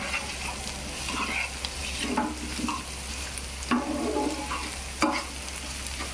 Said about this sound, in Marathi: तर त्याच्याबरोबर कांदा टाकू आपण यात जरा फास्ट करते मी आपला कांदा शिजला पाहिजे ना